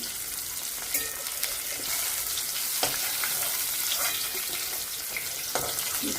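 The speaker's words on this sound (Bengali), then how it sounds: "মাছগুলো বেশ ভাজা হয়ে এসছে, নামিয়ে নিচ্ছি।" Steady sizzling of large pieces of katla fish frying in hot oil, a dense crackling hiss throughout with a few sharper pops and clinks of utensils.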